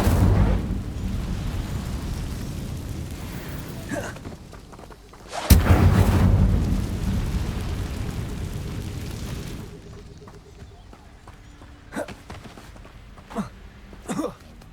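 A fiery Incendio spell cast in the Hogwarts Legacy video game bursts out with a sudden loud whoosh and boom, trailing into a long roaring rumble that fades, followed later by a few smaller sharp pops.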